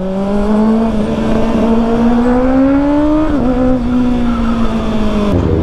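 A 2024 Kawasaki ZX-6R sport motorcycle with a new exhaust drones loudly and steadily close by, its pitch rising gradually, dipping briefly, then holding, with a deep throaty exhaust tone throughout.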